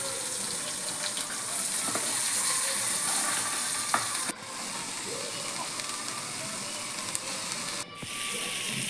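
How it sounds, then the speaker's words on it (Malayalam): Fish frying in a pan at home, a steady faint sizzle and crackle running throughout with light kitchen clatter, fairly quiet and unbroken. "പിന്നെ മീനുണ്ടായിരുന്നത് വറുക്കാനും ഇട്ട്"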